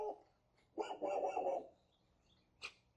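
A dog barks in one close, loud burst of several overlapping barks, with a softer yip before it and another short bark at the end; no talking.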